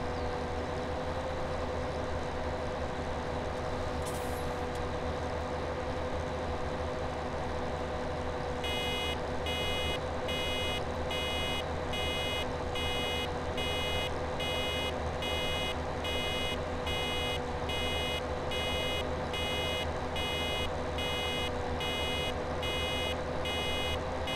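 Reversing beeps sound from a farm vehicle in Farming Simulator 2017: a rapid, evenly spaced series of electronic beeps starts partway through over a constant low engine drone, with no talking.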